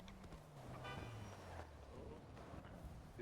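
A car passes close by, its engine pitch sliding downward as it goes, with a short horn toot and distant traffic behind.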